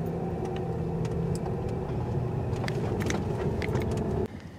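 A 2018 VW Tiguan SUV without all-wheel drive drives off-road through soft sand. A steady, loud engine drone and rumbling chassis noise continue throughout and drop off abruptly at the end.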